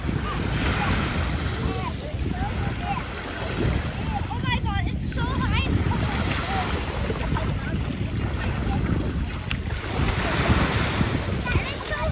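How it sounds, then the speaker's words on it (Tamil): Sea waves roll onto a beach in Canada in a continuous loud wash of surf and wind noise, with birds chirping faintly and a voice talking intermittently underneath. "ரொம்ப ரம்மியமாக இருந்தது அந்த அலையெல்லாம் வேடிக்கை பார்க்கறதுக்கு"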